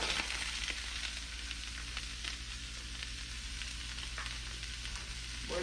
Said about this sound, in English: We're going to saute those for about 5 minutes. Again, medium to high heat.